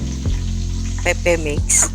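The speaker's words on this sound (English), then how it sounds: "Then go in with your sliced onion." Sliced onion frying in hot oil for egusi soup makes a loud sizzle beneath a voice speaking, with short crackling bursts near the end.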